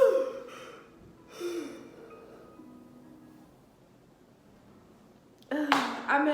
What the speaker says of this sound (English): I've been avoiding that yawn the whole time I've been telling this fucking story